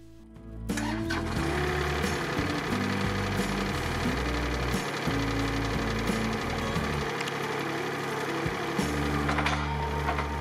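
A hydraulic grapple attachment on a fork frame is started up and run, giving a steady, loud mechanical engine drone with rattling and a few surges and dips throughout, no talking.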